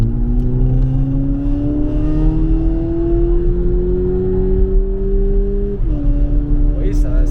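A 2022 Volkswagen Polo GTI pulls hard under full throttle. Its engine note climbs steadily in pitch and then drops briefly at an upshift before rising again. The engine is loud and close throughout, heard inside the car.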